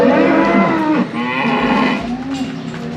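Several loud, close moos from dairy cows due to be dried off, long drawn-out bellows overlapping one after another.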